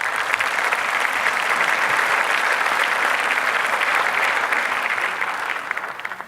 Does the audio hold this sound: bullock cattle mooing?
no